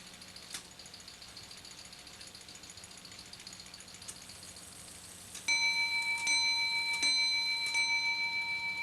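A clock ticks quietly, then the bright bell of a double fusee English bracket clock starts striking four in a steady series of ringing chimes close by.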